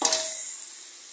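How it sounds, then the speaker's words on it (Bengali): Potatoes fry with fish spices in a home kitchen. There is a steady, bright sizzle and hiss that is loudest at the start and then settles into an even, close sizzle with no talking. "এই যে মাছের আলু ভাজা হচ্ছে"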